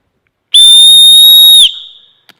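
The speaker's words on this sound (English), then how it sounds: "We have the tiniest whistle I think I've ever seen." A tiny survival-kit whistle gives one loud, shrill, steady blast of about a second, then a short fading tail and a faint click.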